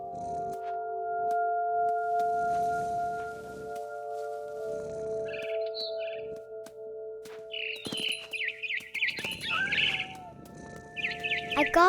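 Birds chirping in the video game What Remains of Edith Finch, high tweets and short trilled calls arriving in bursts over a steady tonal hum and soft ambient sound, growing busier toward the end.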